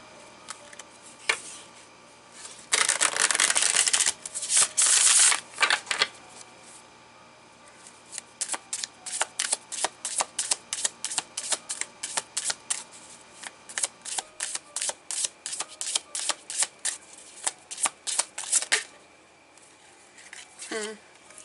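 Oracle card decks are shuffled in a long run of quick, crisp riffling and flapping bursts close to the microphone, with dense rapid patters early on giving way to a rhythmic series of snaps, with no talking.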